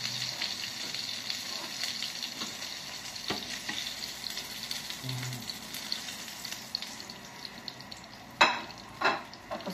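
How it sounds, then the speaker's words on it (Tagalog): Steady crackling sizzle of food frying in a pan, continuous and close, with a couple of sharper clatters near the end, while preparing green peas with tuna and egg. "Tapos na po yung prito ng isa."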